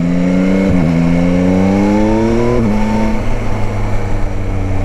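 A 2021 Yamaha Tracer 9 GT motorcycle accelerates up close, its engine note climbing steadily through the revs, dropping briefly at a gear change, then climbing again over wind noise.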